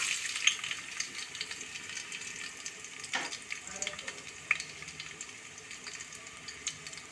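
Small onions sizzle in hot oil for a tempering, a steady close frying hiss with a few sharp crackles and pops throughout.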